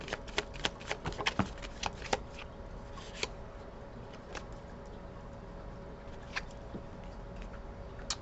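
Tarot cards being shuffled during a reading, giving quick papery riffles and flicks in irregular bursts, close and fairly quiet, with a faint steady hum behind and no talk.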